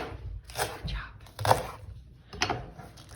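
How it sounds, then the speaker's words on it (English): Leeks are chopped with a knife on a board, giving a few close, irregular cutting thuds and crisp slicing crunches, fairly quiet, with brief talk in the background. "chopping up the leeks"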